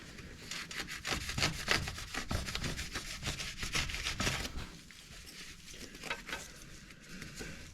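Power saw cutting through car exhaust parts while a Japspeed exhaust goes on a turbocharged IS200. Close, harsh rasping runs steadily and loudly for about five seconds, then softens into lighter grinding strokes.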